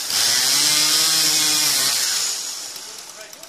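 A chainsaw engine buzzes loudly and steadily up close while cutting a tree, then winds down and fades after a couple of seconds, leaving quieter rustling.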